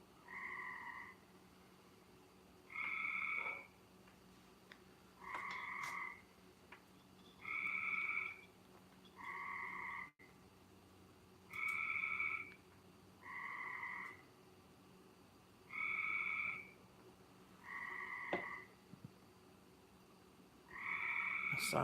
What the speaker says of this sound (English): That's some kind of frog out there